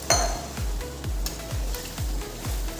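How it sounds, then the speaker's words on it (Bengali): Potatoes, onion and spices stirred in a pan, heard as a regular rhythm of about six scraping strokes with faint sizzling and light utensil clinks, close up with no talk. "সবটা দিয়ে সুন্দর মতো নেড়ে চেড়ে দিলাম"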